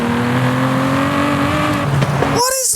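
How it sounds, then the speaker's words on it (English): Aston Martin race car engine from Forza Horizon 5 holds a loud, steady mid-range drone with a gear change near the end, then a quick rev and tire squeal. "in Forza Horizon 5, the Aston Martin 177 sounds like this"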